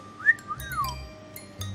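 A voice mimics a whistling garden gnome with a short rising and falling two-note whistle, followed by faint clicks and quiet background. It is close and fairly soft, with no talking.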